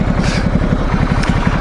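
Ducati Multistrada 1200S motorcycle engine idling close by, a steady low rhythmic throb with a faint scrape partway through, no talking.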